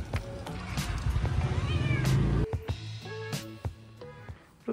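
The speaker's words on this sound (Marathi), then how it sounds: "आणि ही बघा आमची मनी." A pet cat meows a few times close by, short voiced calls rising and falling over a busy indoor background with some clatter.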